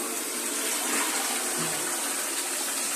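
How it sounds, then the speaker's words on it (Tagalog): Water poured into a toilet bowl to flush it, a loud, steady gushing rush of water heard up close for about three seconds with no talking. "Pag mayroon na siyang tubig, pwede na natin i-flush yung dumi."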